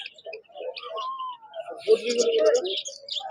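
Budgerigars chirping at an exotic bird market in Serampore, with scattered high twittering calls near and far. Someone talks over the birds throughout.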